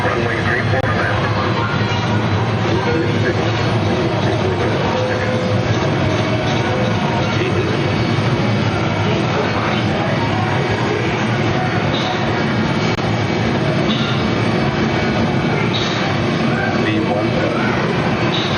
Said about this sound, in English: Here's the takeoff, runway 34 left.